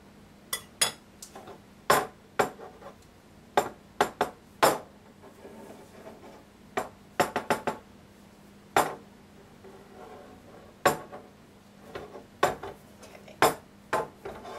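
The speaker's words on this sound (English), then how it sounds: "want to tap any of the excess out" A cake pan dusted with flour is knocked repeatedly against a surface to shake out the excess, a series of sharp metallic taps in irregular bursts, close and clear with no talking.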